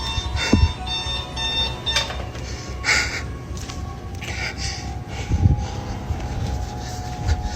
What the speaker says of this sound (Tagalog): now the fucking alarm's going off